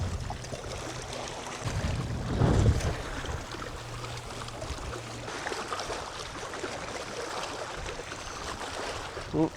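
Wind blows steadily across a sandbar during night fishing, a broad gusty rush buffeting the microphone with a low rumble, continuous and moderately loud with no voices.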